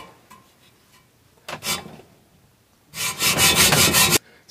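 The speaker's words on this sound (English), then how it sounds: "pinching my hacksaw blade because it's a crappy frame under stress. So now I'm cutting it." A hacksaw cuts through the frame of a cheap adjustable hacksaw, the blade pinching under stress; a short rasping burst is followed by a longer, louder sustained stretch of sawing strokes, heard alone and close.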